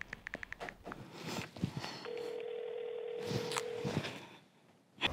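A telephone placed to call a parent: a series of quick keypad taps, then a steady ringback tone for about two seconds, with faint rustling and a click as it ends.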